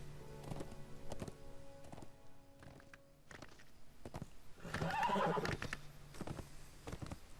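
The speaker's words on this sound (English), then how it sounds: "We're going to round the corner, talk to Radagast's horse" A horse whinnies loudly in a Lord of the Rings Online game scene, with hooves clopping and a few sharp clicks around it.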